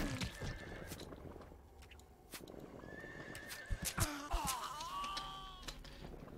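A horse neighs and whinnies in the video game Sacred Gold, long wavering calls over clip-clopping hooves and sharp thuds, fairly close and moderately loud, with no talking.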